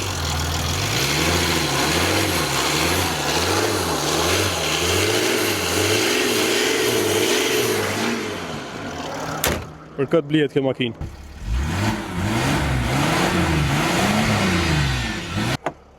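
A 2008 Mercedes E280 CDI diesel idles with a rough, pulsing drone and rises in revs, then a door thuds and the engine note swells again. Someone speaks over the engine.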